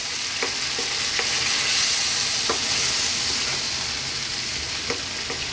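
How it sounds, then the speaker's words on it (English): Crushed whole canned plum tomatoes go into a hot frying pan with bacon and garlic, giving a steady, loud sizzle with a few soft clicks of stirring throughout. "And then we're going to add that 1 can of tomatoes."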